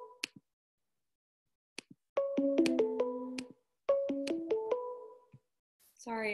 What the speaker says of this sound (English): I'm not sure where this ringing is coming from.